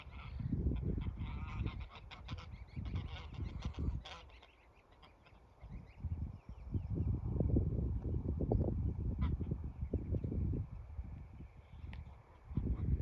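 Repeated loud honking from a male goose heading toward dogs, harsh and nasal, coming in bursts over about thirteen seconds with a brief quieter lull in the middle.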